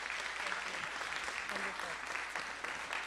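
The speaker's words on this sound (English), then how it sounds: "I think we need to give another round of applause for author Amy Snap" Audience applause for author Amy Ellis Nutt at a university symposium, a steady dense clapping that fills the room for a few seconds, with some faint voices mixed in beneath it.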